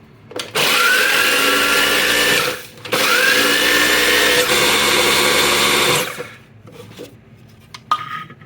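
A small electric grinder whirs loudly as it grinds Ritz crackers into fine crumbs, two strong bursts of motor noise with a brief pause between, then quiet handling clicks.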